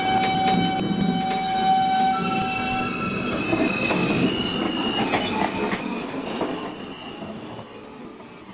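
A J Express subway train rumbling along the rails with wheels squealing and metallic clatter, loud and close, easing off toward the end.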